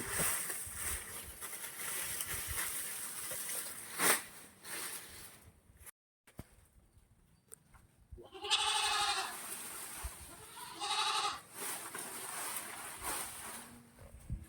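A goat bleats in a village, two loud wavering cries close by in the second half, over a background of rustling and outdoor noise.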